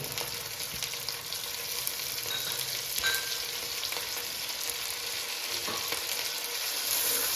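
Tomatoes and turmeric fry in a hot pan, a steady close sizzle with occasional scrapes and clinks of a spoon stirring, continuous throughout with no talking.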